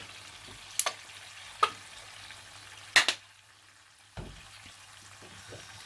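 Chilli chicken ingredients tossed on a high flame, with a low steady sizzle broken by four sharp metallic clanks of a spatula against the pan, no talking.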